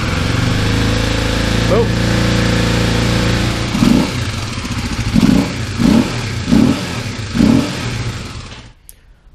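A motorcycle engine with a loud airbox is revved several times in a row, each rev a short throaty rise and fall over a steady idle, close to the listener. A brief exclamation comes just before the engine cuts off.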